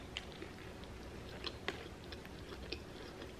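Close, quiet chewing of a Burger King Whopper topped with hot Cheetos, with soft wet mouth sounds and a handful of faint crunchy bites scattered through, no talking.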